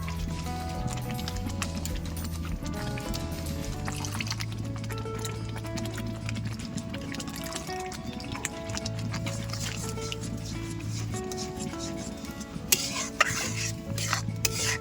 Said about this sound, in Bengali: এটা নাড়তে থাকবো কিছুক্ষণ